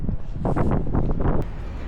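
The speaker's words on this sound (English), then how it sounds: "It is really windy and cold up here." Strong, cold gusts buffet the microphone at the highest point in Athens, a heavy low roar surging in rough waves close up.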